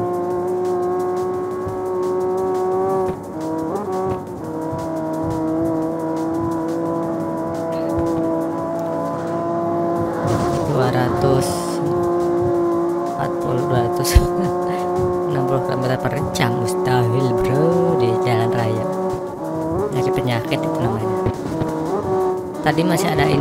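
Race cars in the CarX Street driving game, with a steady engine drone and shifting revs that rise into a busier stretch of screeching and impact noises midway, carrying through to the end under continuous talk.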